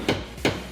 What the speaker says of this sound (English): you can take a chisel, put it in the crack, and hammer that in there